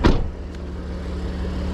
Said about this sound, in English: I'll bang the window down in case I get locked out